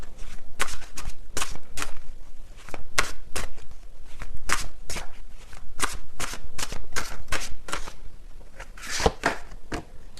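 Tarot cards being shuffled close up, a rapid series of crisp riffling and slapping bursts repeating in an uneven rhythm, loud and alone without talk.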